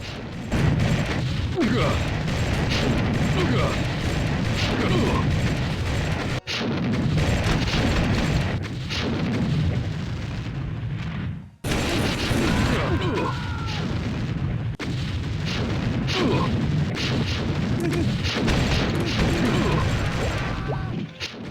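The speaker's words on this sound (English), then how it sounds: "I guess I'll just play bazooka tennis with this tank here." In the 1999 video game Army Men 2, bazooka rockets fire repeatedly at a tank, giving a dense run of booms, crashes and explosions that continue through the clip, with a voice talking over the game audio.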